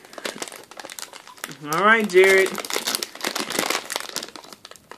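Plastic packaging of childproof baby biscuits crinkles and crackles close by as it is pried open, with sharp bursts of crumpling in short runs while someone speaks over part of it.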